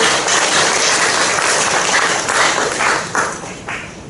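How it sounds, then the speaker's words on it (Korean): A congregation at a Korean Wednesday worship service for retired pastors bursts into dense, loud, continuous applause that holds steady, then thins out with a few final claps. "또 박수 한번 쳐주십시오."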